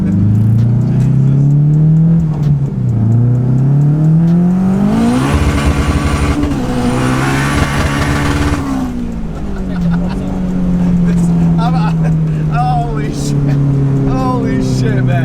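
A 1996 Honda Civic hatchback with a turbocharged K20 engine making about 500 wheel horsepower accelerates hard, its loud engine note climbing through the gears with shifts and a high turbo whine, heard from inside the car with excited talk over it.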